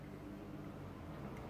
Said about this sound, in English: Excuse the fridge noise.